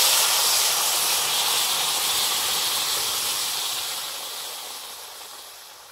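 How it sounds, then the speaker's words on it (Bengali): Dal poured into a hot pan for a mixed-lentil curry sets off a loud, steady hissing sizzle that gradually softens over several seconds. "এবার ডালটা ঢেলে দেবো।"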